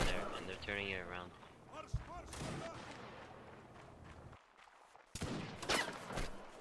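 Musket fire in a Napoleonic Wars game battle: scattered sharp cracks and a louder volley toward the end, mixed with shouting voices and talk, fairly distant and uneven.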